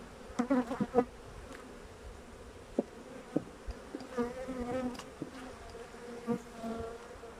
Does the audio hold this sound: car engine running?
no